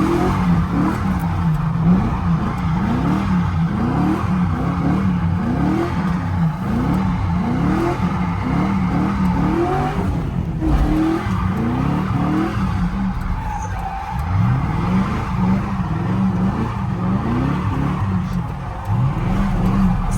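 A car accelerating hard with its tires squealing, loud and close, the engine note sweeping repeatedly over about twenty seconds with continuous squealing and skidding.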